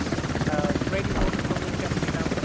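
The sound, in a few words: helicopter in video game Squad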